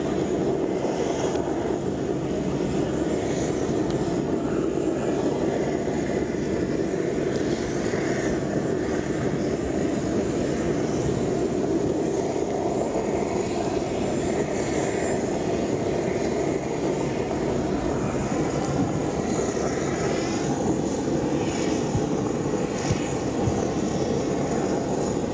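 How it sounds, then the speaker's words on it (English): An Air New Guinea Airbus A310 jet departs Port Moresby's Jackson's International Airport, a loud steady engine roar holding broadband and unbroken for the whole stretch, with no voices over it. "Air New Guinea flew him on its Airbus A310 from Port Moresby to Sydney"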